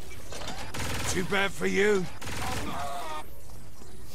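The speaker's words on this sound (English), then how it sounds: "Laser Gatling gun." A laser Gatling gun fires in the video game Saints Row 4 as a sustained, rapid, crackling burst that runs under a voice talking throughout.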